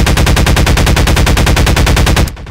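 Rapid automatic fire from the AR2 rifle in Garry's Mod VR, a loud, steady stream of evenly spaced shots for over two seconds before cutting off abruptly.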